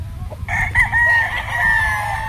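A seven-month-old Allen roundhead gamefowl rooster crows loudly and close by, one drawn-out cock-a-doodle-doo starting after a short stir of low background noise, with no speech over it.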